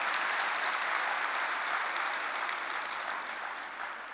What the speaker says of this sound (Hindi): ताली बजाओ ना जरा एक बार अच्छी तरह से